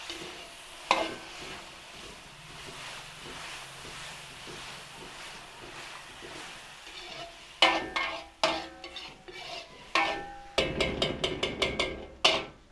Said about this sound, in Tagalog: Lagyan tayo ng chicken powder. Haluin lang po natin.